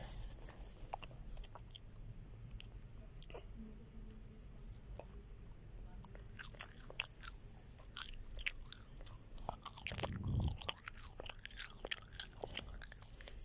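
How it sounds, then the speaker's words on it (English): Someone close to the mic eats fries, with faint, quiet crunching and chewing bites scattered over a low background hum. "And so I'm gonna eat fries."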